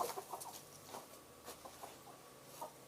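A chicken gives several soft, scattered clucks at close range over a quiet background, with a few faint pattering sounds between them.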